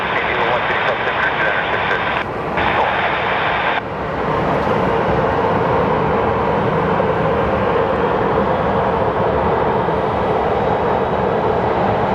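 A Southwest Airlines flight 3818 from Chicago arriving at Phoenix Sky Harbor Airport, its engines producing a loud, steady jet roar that fills the whole stretch with a slight shift partway through.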